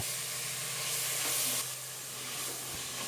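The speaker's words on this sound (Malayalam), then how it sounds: "ഇനി അവയെല്ലാം നന്നായി വഴന്ന് വരുന്നത് വരെ നമുക്ക് ഇളക്കി കൊടുക്കാം" Tomatoes, green chilli, ginger and crushed garlic sizzle steadily in a hot pan for a spicy beef curry, with soft continuous frying hiss and faint stirring scrapes, no voices.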